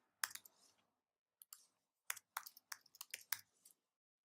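Fingers tap out a username and password on a computer keyboard in quick, uneven bursts of sharp, close clicks separated by short pauses, in an otherwise quiet room.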